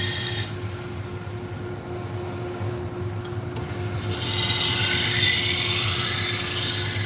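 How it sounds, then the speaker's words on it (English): Dust collection system running in a knife sharpening shop with belt sharpeners, a steady broadband whoosh with a constant hum, growing louder and brighter partway through, with no talking. "the noise you hear in the background is the dust collection system"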